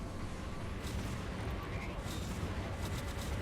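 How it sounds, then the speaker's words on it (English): Ship weapons in the space combat game Dreadnought fire at a Corvette as dense, rumbling booms under a constant roaring background, with distant sharper blasts scattered throughout. "Trying to land some shots here on this Corvette"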